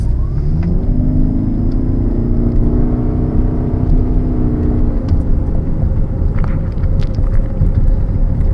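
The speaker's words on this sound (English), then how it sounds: "I'm gonna be really hard on the gas here." A car accelerating hard, a loud close engine roar with rising whine that climbs for about five seconds, then settles into a rumbling drone.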